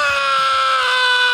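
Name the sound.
A man screaming in a movie trailer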